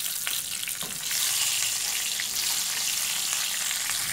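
Onion and garlic sauté in the same pan used to fry pork loin, a continuous close sizzle with a few stirring taps early on and no voices.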